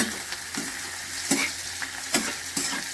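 Bitter gourd pieces frying in oil in a pan, stirred with a ladle in repeated scraping strokes over a continuous close sizzle, with no voices.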